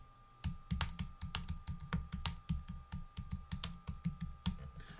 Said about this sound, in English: So if I have a Google search, right, and I type in weight loss, or I type in how to